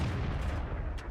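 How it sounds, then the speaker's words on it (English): Tank cannon fire in a World of Tanks battle with a StuG III G: a loud, dense burst of booming gunfire that rumbles continuously through a second, with sharper cracks near the middle and end. "That was an unfortunate shot."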